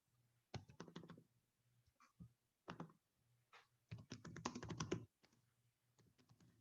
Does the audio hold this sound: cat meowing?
no